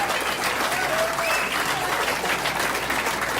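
Dense, steady audience applause from a crowd at a live show, a continuous wash of clapping with a few whistles, loud and close throughout.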